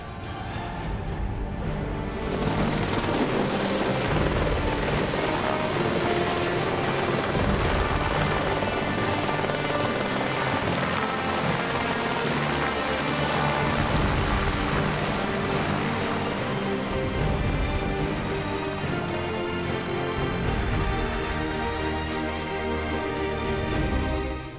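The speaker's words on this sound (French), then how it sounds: "c'est la toute première fois dans l'histoire de la Côte d'Ivoire et du parc national du Banco qu'un hélicoptère se pose à l'intérieur de ce parc." Helicopter landing inside Banco National Park in Côte d'Ivoire during a firefighter exercise, a loud steady rotor and engine roar with a sustained high whine, continuous and close throughout.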